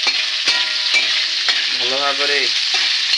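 Chopped onions fry in a pan while being stirred, giving a steady loud sizzle with periodic scraping strokes; a voice briefly speaks partway through.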